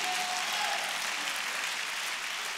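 A church congregation applauds together in a steady, dense wash of clapping that stays even and fairly loud throughout, with no talk standing out above it.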